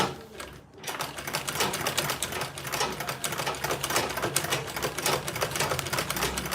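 A sewing machine stitches Ankara fabric for a tote bag, its rapid needle clatter running loud and continuous after a brief pause at the start.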